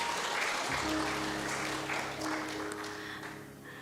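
A church congregation claps together during a Sunday service, a broad, steady burst of many hands that fades slightly toward the end, with a low sustained tone underneath.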